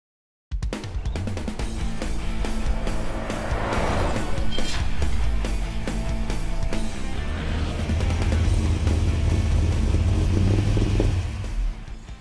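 A 1,100-horsepower 1972 Mercury Marquis on the move, a loud, deep engine rumble that builds and holds with some revving, heard from close by with no talk.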